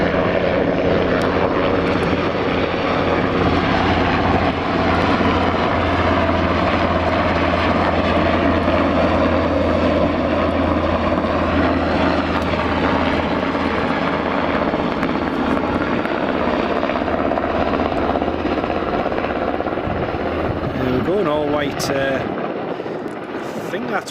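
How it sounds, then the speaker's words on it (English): An all-white Sikorsky S-92 helicopter at Aberdeen Dyce Airport gives a loud, steady, close rotor and turbine roar that fills the whole stretch without a break and eases slightly near the end. "Here we've got an all-white Sikorsky S92."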